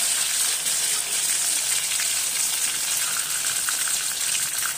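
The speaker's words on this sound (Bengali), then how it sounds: "আবার আমরা একে ডিপ ফ্রাই করব" Potato strips deep frying in hot oil for homemade French fries, a dense, steady sizzle and crackle that holds at an even level throughout, close up with no talking.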